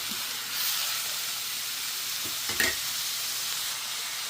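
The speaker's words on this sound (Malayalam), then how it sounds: "ആവശ്യത്തിനുള്ള ഉപ്പ് ചേർത്തു വീണ്ടും ഇളക്കാം" A vegetable stir-fry of bottle gourd with curry leaves and salt sizzles steadily in a pan, with a continuous hiss and a brief scrape of stirring near the middle.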